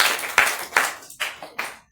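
A congregation claps in praise during a French-language youth church service, giving about five sharp, close claps in an uneven rhythm with no voices between them.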